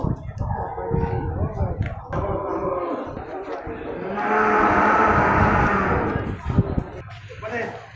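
Simmental cattle, including a bull, low with a long sustained moo at a busy livestock market, set among crowd noise and nearby talk.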